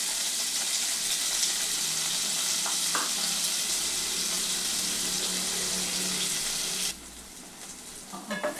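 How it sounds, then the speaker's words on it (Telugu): Large rough-cut onion pieces sizzle steadily in hot oil in a pan, a loud continuous frying hiss with faint stirring clinks, before the sizzle drops away abruptly near the end. "ఆయిల్లో వేసి లైట్గా కొంచెం ఫ్రై చేసుకోవాలి."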